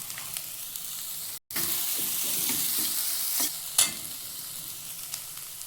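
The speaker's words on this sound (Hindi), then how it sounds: "ये हरा मिर्ची जो प्याज कट कर रखी थी, इसको हम थोड़ा गोल्डन होने तक फ्राई कर लेंगे।" Chopped green chili, onion and capsicum fry for pav bhaji with a continuous close sizzle, broken by scraping strokes of a stirring spoon and a brief gap midway.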